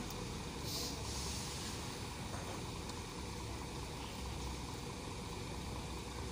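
Idling engine of a Mercedes-Benz 1626 bus chassis at a bus terminal at night, a steady low diesel rumble with a continuous broadband hum, fairly faint and unchanging, with distant station ambience.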